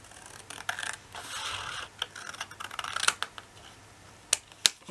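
Paper being cut for a handmade Christmas scrapbook album gives a series of sharp, dry clicks and snips, irregular and close, with a faint rustle between them and a few crisp snaps near the end.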